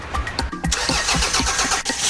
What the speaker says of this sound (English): I'm going to try and turn the engine over